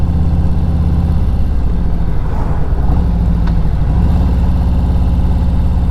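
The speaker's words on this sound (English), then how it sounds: "And I love the sound of these zombie baffles on this bike." A tuned 2020 Harley-Davidson Electra Glide with zombie baffle exhaust rumbles close by, a deep, steady low-pitched throb with a slight swell partway through and no voices over it.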